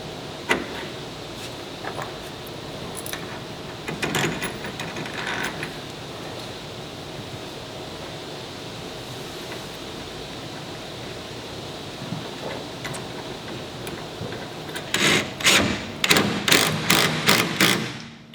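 A Pace Edwards BedLocker tonneau cover clamp being tightened down: scattered metallic clicks early, then a quick run of sharp ratcheting clicks near the end over quiet background.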